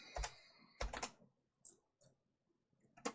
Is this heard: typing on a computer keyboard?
yes